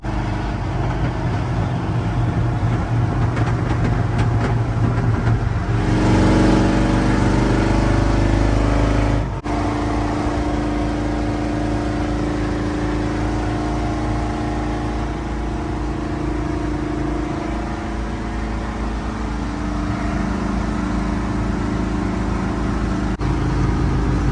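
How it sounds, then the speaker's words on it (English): A 1970 Ford truck engine drones steadily on the move, with occasional popping and backfiring bursts breaking through the loud road and cab noise; no one speaks. "Just popping, backfiring again."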